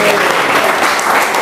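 A church congregation cheers and applauds loudly and steadily during a lively worship service, with shouting voices mixed into continuous clapping throughout.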